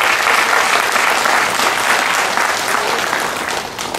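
An audience at a spiritual talk bursts into loud, sustained applause, thick, even clapping that fades slightly toward the end.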